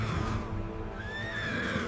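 A horse neighs in a battlefield scene, a faint rising whinny set against a dense, low rumbling background with no talking.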